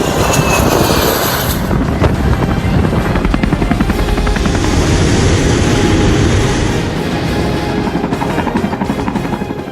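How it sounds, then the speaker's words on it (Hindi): Indian Air Force fighter jets roar loudly overhead, a dense, continuous engine rumble with a steady, throbbing texture that holds at high volume for the full stretch, with no voices. "हवा के गरजते भारत के लड़ाकू विमान"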